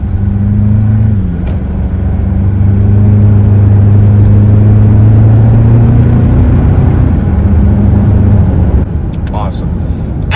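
A Toyota Tacoma pickup fitted with a Banks intake accelerates on the road, its engine drone heard from inside the cab as a loud steady hum that rises slightly in pitch before easing off near the end.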